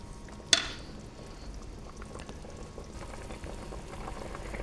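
Pork with lemongrass simmering in a pot of water, a low steady bubbling hiss that runs throughout, with one sharp clink near the start.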